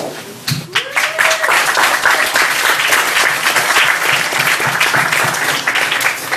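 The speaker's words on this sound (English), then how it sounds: "Now you clap, huh?" Audience at a Cooper Union community forum bursts into loud, sustained applause, a dense wash of many hands clapping steadily from start to finish after a brief quieter moment at the opening.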